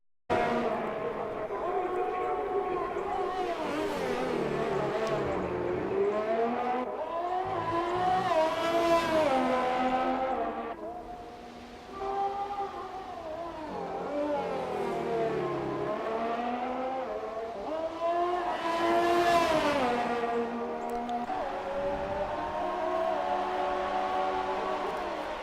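Formula 1 cars in the racing game F1 2018 at the Hungary circuit roar continuously at high revs, the engine pitch sweeping up and down through gear changes, with a commentator talking over much of it.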